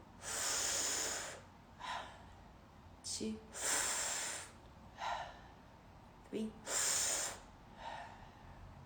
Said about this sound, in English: So let's practice breathing.